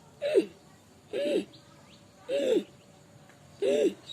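Ujjayi yoga breathing made as a throaty, hiccup-like catch: four short voiced throat sounds at a steady rhythm about a second apart, close and moderately loud, with quiet pauses between them.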